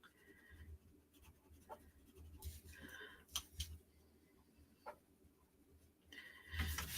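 Colored pencil strokes on paper in a creative journal, faint and close, as a soft scratchy scraping with occasional light taps and brushes.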